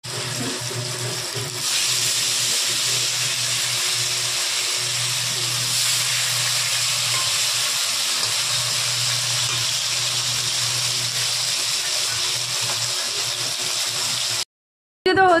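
Fish frying in a home kitchen, a steady, close hiss of hot oil that starts softer and swells after a couple of seconds, holding constant until a sudden cut near the end.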